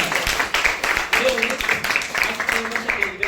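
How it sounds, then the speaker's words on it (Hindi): An indoor audience at a network marketing talk gives a short round of applause, the claps steady and fairly close, with someone talking over them. "जीत भाई के लिए जोरदार तालियां मारेंगे।"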